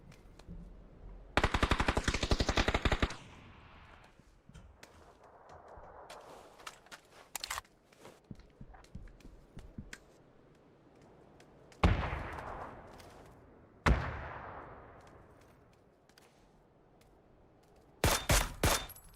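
Video game match gunfire: rapid automatic bursts and single sharp shots, loud and close, coming in several separate volleys with quieter gaps between.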